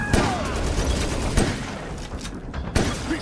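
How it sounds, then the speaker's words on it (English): Shotgun blasts in a video game, several sharp booming shots in quick succession, loud and dense with layered gunfire and action noise. "So I'm going to aim a shotgun with Bert in between me and the bad guys I'm trying to shoot"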